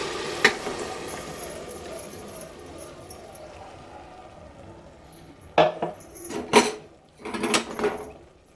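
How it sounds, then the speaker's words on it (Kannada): Ground masala being stirred in a cooking pot for mushroom biryani: a quiet low scraping bed, then several louder clustered clinks and scrapes of a spoon against the pot near the end. "ಮಸಾಲೆನೆಲ್ಲ ಹಾಕಿ ಕೈಯಾಡ್ತಾ ಇದೆ"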